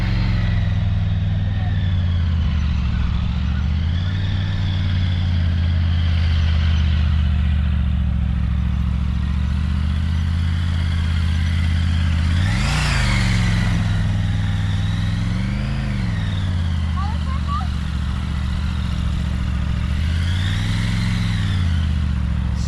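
A motorcycle ridden in repeated circles during a riding lesson, its engine note rising and falling in steady waves as it loops past, loud and continuous throughout, with occasional speech nearby.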